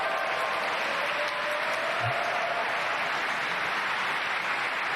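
A large audience at a political speech breaks into steady, continuous applause that holds at an even, loud level throughout, dense and unbroken with no voice rising above it.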